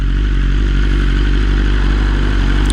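A BMW S1000RR motorcycle on the move gives a loud, steady, close engine drone with a continuous low rumble and road noise, unbroken throughout.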